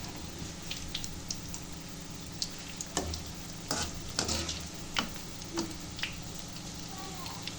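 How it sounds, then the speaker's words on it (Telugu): Onion pakoda bubbles and sizzles in hot oil with a steady frying hiss, broken by occasional stirring clinks and scrapes, close and moderately loud, while rain falls outside. "చూడండి ఫ్రెండ్స్, ఆనియన్ పకోడా రెడీ అవుతుంది."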